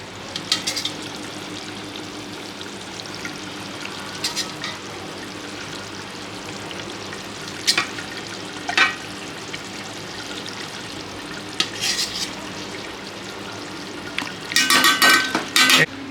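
Potato pieces frying until brown in a pot of oil for biryani, a steady soft sizzle broken by sharp scraping stirs and clatters of a utensil, close and alone.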